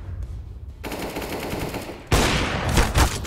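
Rapid automatic gunfire from Counter-Strike: Global Offensive rattles in bursts, with a sustained stretch of shots followed by a louder, closer volley near the end.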